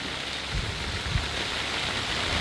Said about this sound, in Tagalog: Yan, ligo ng ulan.